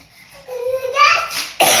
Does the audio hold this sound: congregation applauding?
no